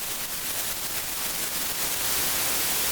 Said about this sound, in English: as soon as I stop speaking, white noise will be played at its full peak level